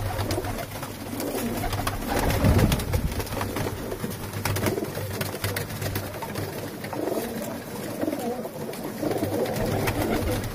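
A loft holds about 120 pigeons, and their cooing fills the space continuously at close range, with occasional wing flutters and a faint voice in the background.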